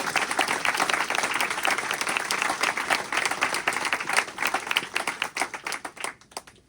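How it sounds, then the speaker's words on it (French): An audience at a French community association event applauds warmly, a full burst of many hands that holds steady, then thins into scattered individual claps and fades out toward the end. "je crois qu'on peut l'applaudir pour tout le travail qu'elle réalise auprès de vous"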